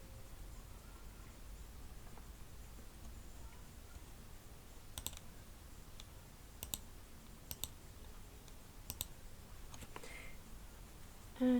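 Computer mouse clicking while images are imported into Lightroom, a handful of faint, sharp, isolated clicks spaced irregularly over a quiet, hissy room background.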